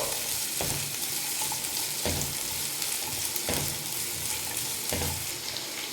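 Vegetables and chopped capsicum sizzle steadily in a hot pan, with a spoon stirring them in regular scraping strokes about every second and a half over a constant frying hiss.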